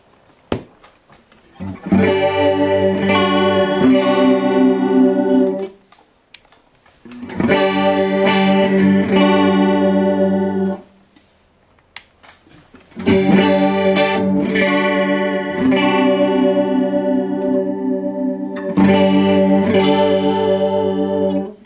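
Electric guitar through a chorus ensemble pedal with the wet switch on, a lush, shimmering chorus effect, played in four sustained strummed phrases separated by short pauses, full and loud.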